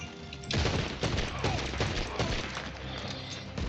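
Rapid bursts of gunfire from the Red Dead video game, dense overlapping shots and heavy thuds firing almost nonstop, loud and close.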